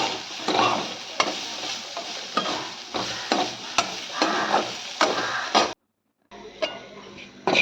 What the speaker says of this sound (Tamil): நல்லா அப்படியே அந்த பொடி பொடியாக ஆகிற அளவுக்கு வறுக்கணும்